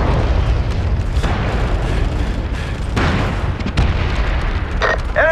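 Incoming artillery shells explode in the MAG battlefield shooter, a steady barrage of deep booms and rumbling blasts that stays loud throughout, with a few sharper cracks standing out.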